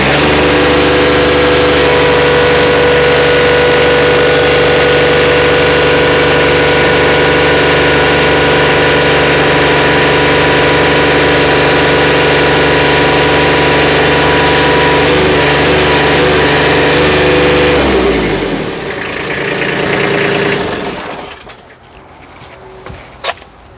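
A Kubota B26 compact tractor's engine runs steadily at full RPM, loud and close, with a constant harmonic drone that drops away as the engine winds down near the end, leaving quiet background.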